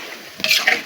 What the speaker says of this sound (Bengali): এই কাঁচা গোজাগুলো আমি তেলে ছেড়ে দিলাম। তেলে ছেড়ে দিয়ে এখন ভাজতেছি।